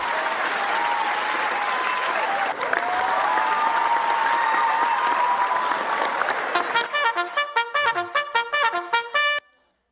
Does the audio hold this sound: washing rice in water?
no